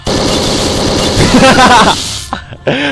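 Rapid gunfire from the video game Hotline Miami 2: Wrong Number rattles in a loud, dense burst of repeated shots, then cuts off into a few scattered game sound effects.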